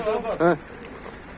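A pigeon coos briefly near a loft, a couple of soft throaty calls followed by a voice talking.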